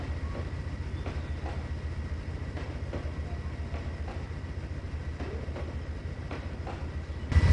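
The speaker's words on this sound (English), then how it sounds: "These Surfliner cars are really nice." Surfliner passenger train cars in the Trainz 2022 simulator rolling steadily, giving a continuous low rumble with rhythmic rail clicks, close and alone without talk, and a brief louder burst at the very end.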